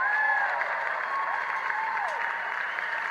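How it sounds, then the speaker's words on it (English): An audience applauds in a steady, moderate wash of clapping that lasts a few seconds, with faint whistle-like tones drifting over it. "Thanks for your applause"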